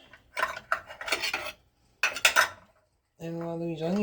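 Cooking onions stirred in a pan for a holiday meat pie, scraping and clinking utensil strokes in short bursts, close, ending with a brief hum.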